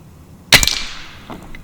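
Hatsan Model 135QE .25 caliber air rifle firing an Air Arms pellet at a 2-inch steel target 20 yards away, one sharp loud crack with a short decay, then a faint distant knock.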